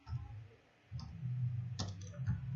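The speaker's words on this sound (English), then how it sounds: "right click on your desktop" A computer mouse gives a couple of faint, crisp clicks over a low room hum, one near the start and one toward the end.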